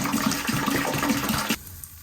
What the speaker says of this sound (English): Flush it, send it through.